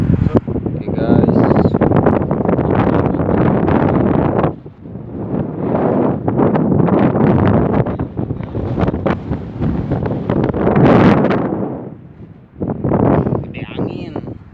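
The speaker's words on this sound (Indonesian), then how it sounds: "gede angin." Strong wind on a beach during a fishing trip buffets the microphone in loud, roaring gusts that rise and fall, with brief lulls between them.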